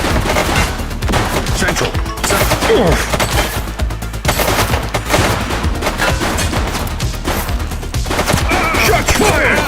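Dense bursts of video game gunfire crackle loud and close in rapid overlapping volleys, with a short spoken word in the middle.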